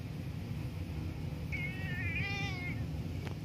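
A house cat gives a single clear, drawn-out meow midway through, soft and close over a low background hum.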